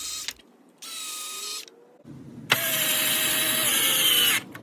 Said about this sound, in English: And drill her in.